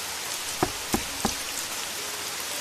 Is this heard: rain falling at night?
yes